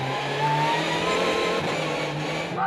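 Peugeot 207 rallycross cars dueling on the track at Dreux, engines roaring loud and steady throughout with sustained high revving and a layered, continuous racing drone.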